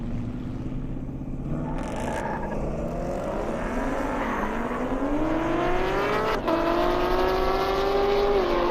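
A Chevrolet ZL1 and a Roush Mustang race side by side, roaring engines rising steadily in pitch as they accelerate, a continuous loud drone with a brief shift near the end.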